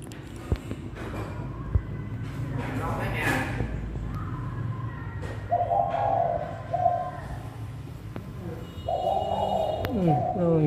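A talking pet bird coos and calls in short repeated bursts close by indoors, while people talk around it.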